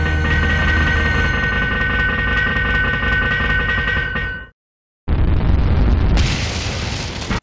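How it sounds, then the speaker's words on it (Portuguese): Smoke's exploding Fatality in a Mortal Kombat fighting game: a loud, harsh, sustained blast with a droning tonal roar, a sudden drop to silence, then a second burst of crackling explosive noise that cuts off abruptly. "Que barulho mais merda da explosão do mundo"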